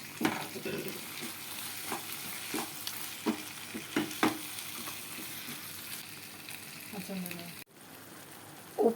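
Prawns stirred and frying in a pan for a roast with salt, giving a steady close sizzle broken by repeated scraping stir strokes and soft clatters.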